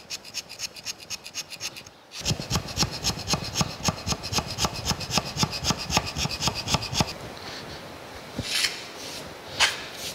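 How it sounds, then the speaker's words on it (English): A hand scraper works a metal planer's clapper box cross slide, giving steady rhythmic rasping strokes at close range, with a short pause before the run and a few slower scrapes at the end. "I can get in there pretty good with this hand scraper."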